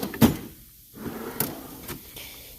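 A metal drawer of a Harbor Freight five-drawer tool cart slides open with a short rolling rumble and clunk, followed by a couple of lighter knocks and rattles.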